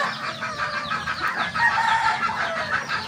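Red junglefowl roosters crowing and clucking, with overlapping calls and busy clucking close by and no talk.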